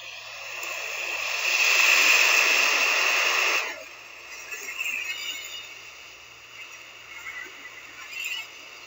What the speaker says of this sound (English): Now, hear with me the crashing sound of the waves.